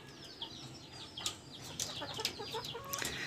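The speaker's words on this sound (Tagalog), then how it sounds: "Ito yung mga manok natin na pinapaiklog." Laying hens on a small farm cluck in a coop with scattered, overlapping calls and short bursts, moderately near, without talk over them.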